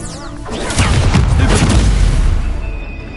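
An Incendio fire spell bursts in Hogwarts Legacy, a loud roaring whoosh that swells and rumbles for a few seconds, then fades, with no talking.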